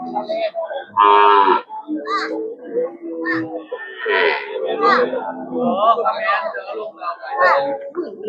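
Cattle moo repeatedly at a busy Saturday livestock market, loud close lows and more distant calls overlapping, while people and children talk throughout.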